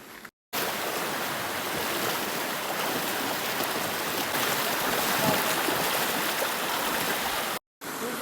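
Dense, steady rush of water as people wade across a waist-deep river on the way to a waterfall, a loud continuous churn close by with brief cuts at the start and end.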